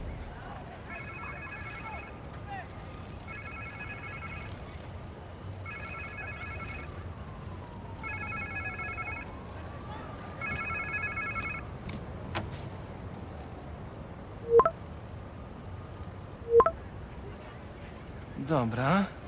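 A trilling cell phone ringtone in the game Marvel's Spider-Man 2 repeats five times in even bursts, then stops, followed by a few sharp clicks and knocks against a low ambient hum.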